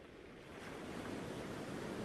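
Steady sea surf with broad, continuous wash of breaking waves, fairly soft and even, swelling slightly in strength partway through with no voices present.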